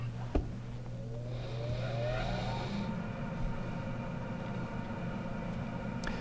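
A lab centrifuge spins up to 3,400 RPM in a nursing lab. A rising whine sweeps upward and then settles into a steady hum with faint mechanical tones, at moderate level and with no talk over it.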